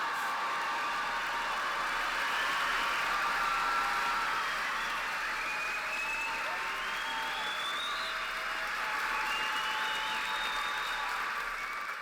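At a 2024 college of art and design commencement, a large audience delivers continuous, even applause across the whole stretch, broad and steady with faint cheering tones riding on top.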